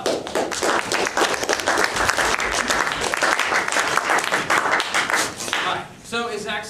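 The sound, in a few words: audience applause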